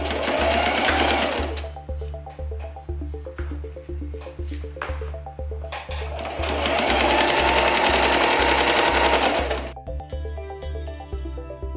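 A sewing machine stitches fabric face masks, running in two quick rhythmic bursts of rapid needle thumping separated by a brief pause, close and clear with no talking.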